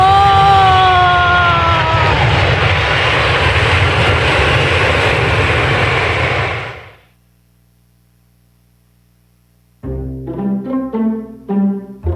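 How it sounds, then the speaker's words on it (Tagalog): An airplane in flight drones loudly and steadily for about seven seconds, then cuts off into near silence before music begins. "Ayan, lumilipad na yung ating eroplano."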